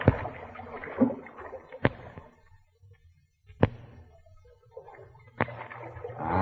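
Wooden paddle strokes on a river in an old radio drama, each dip and pull a distinct splashy swish coming at steady intervals of about two seconds, close and clear with quiet water between strokes.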